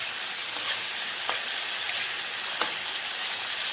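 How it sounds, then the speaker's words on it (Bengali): Small fish fry in a covered pan with a steady, even sizzle and a few faint clicks, with no voices. "এই ভাজার সময় একটু ঢেকে ঢেকে ভাজছি, যাতে ভাজাও হয়ে যায় সেদ্ধও হয়ে যায়"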